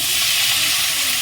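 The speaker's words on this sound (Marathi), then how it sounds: "लसूण आणि जिरे, कढीपत्ता चांगला तडतडून देणार आहे" Garlic, cumin seeds and curry leaves sizzle and crackle in hot oil in a kadhai, a steady close hiss with no talk.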